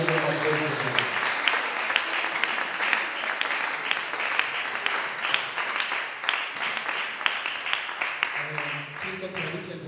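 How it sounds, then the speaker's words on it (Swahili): A church congregation at a Congo prayer service applauds God with steady, sustained clapping that holds for about ten seconds, with singing or voices running faintly underneath. "tumpigie Mungu makofi"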